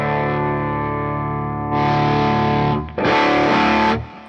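Electric guitar played on the bridge pickup through an amp-in-a-box distortion pedal with the gain turned up. Loud, sustained overdriven chords ring near the listener, one strum blending into the next with a brief gap before the last chord.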